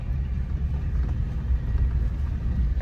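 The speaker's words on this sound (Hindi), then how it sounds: "गाड़ी हिचकोले खा रही है" A car carrying passengers jolts along a bumpy road near Jim Corbett National Park, its engine and body giving a steady loud low rumble throughout, with no voices.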